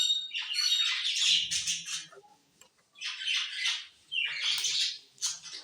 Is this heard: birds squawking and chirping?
yes